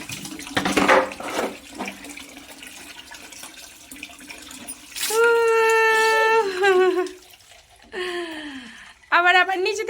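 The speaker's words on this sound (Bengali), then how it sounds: "পুরো মাথায় পানি ঢালছে" A 1.5-year-old toddler pours water from a basin over their own head while bathing, the water splashing and gushing in bursts between an adult's talk and the child's high, sing-song voice.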